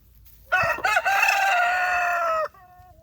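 A rooster crows loudly and close by in one long, wavering call, with a brief cluck at the start.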